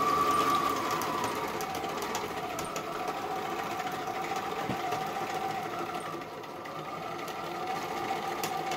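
A sewing machine stitches quarter-inch seams on a bag, running in a steady continuous whir at moderate volume without a break.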